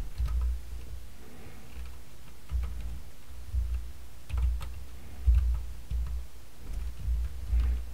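Fingers tapping a computer keyboard during an ICT craft practical exam, a steady run of soft low clicks and key thumps at close range, with quieter stretches between bursts.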